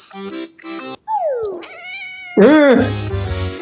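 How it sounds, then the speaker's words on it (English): A cat brought into an office meows several times, drawn-out wavering cries mixed with a person talking nearby. "They brought the cat to the office."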